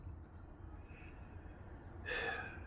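Young kitten with a blocked nose struggles for air, a quiet faint snuffle early on, then a short, louder congested snort or gasp near the end over low background hiss.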